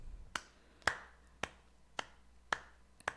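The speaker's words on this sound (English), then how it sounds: "I hear a clap from the back." Sharp single claps or snaps sound one after another from behind in a quiet space, six crisp, isolated hits spaced roughly half a second apart, each with a short trailing echo.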